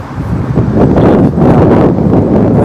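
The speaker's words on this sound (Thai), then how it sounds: "มันนี่ก็ค่อนข้างจะลมและก็หนาวพี่น้องเลยเนาะ ลมแห้งหนาวแห้ง" Strong, dry, cold wind blows outdoors at a home site being cleared for a concrete floor. The gusts roar loud and close into the microphone, a continuous rumble with no speech.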